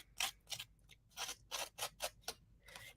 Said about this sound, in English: I'm going to take my scissors and just